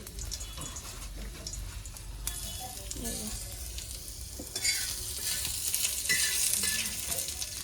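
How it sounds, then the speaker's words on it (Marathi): Garlic frying in oil on a tava griddle over a wood-fired stove, a steady close sizzle with stirring scrapes, growing louder and hissier toward the end. "डॅडीने मस्त तव्यावर तेल टाकलाय आणि त्यानं लसूण लसूण टाकलाय"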